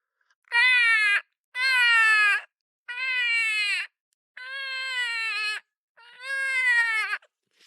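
A predator call imitates a crying sound to lure coyotes: five loud, drawn-out wailing bleats with short silent gaps between them, close and alone.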